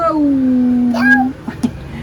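A kitten lets out one long, drawn-out meow close by, followed by a few faint, brief sounds.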